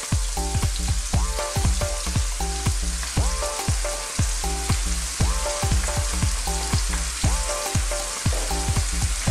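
Prawns and bamboo shoots stir-fried in a hot wok for chili shrimp sizzle loudly, with a steady rhythm of scraping, clattering spatula strokes against the metal pan and no talk.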